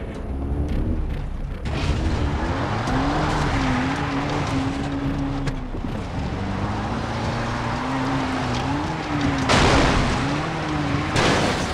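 A car drives in the Far Cry 3 video game, its engine droning steadily with shifting pitch alongside background game sounds and occasional bursts.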